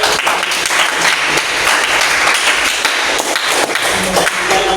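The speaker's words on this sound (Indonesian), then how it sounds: "tepuk tangan untuk" Audience applause for a class group in an Indonesian school lesson, dense steady clapping from many hands filling the room for about five seconds.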